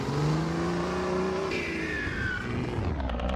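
A truck engine roaring as it accelerates in the Roblox driving game Vida BR, a loud continuous revving drone that climbs in pitch through the gears, with no talk over it.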